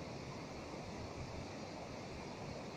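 Ocean surf rolls in at Caiobá beach in Paraná, Brazil, under overcast weather, as a continuous even wash of waves mixed with wind noise on the microphone.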